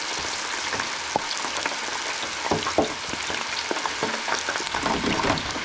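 French fries deep frying in grease at 375 degrees, a steady close crackling sizzle with scattered sharper pops and bubbling bursts throughout, no talking.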